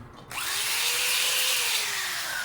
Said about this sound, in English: drilling out a little bit before I put a rivet in